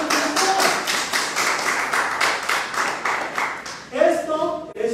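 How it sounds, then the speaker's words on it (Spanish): An audience claps at a bonus-training talk, a run of fast, even claps that peaks and then falls off, with voices breaking in near the end. "Un aplauso, muchachos."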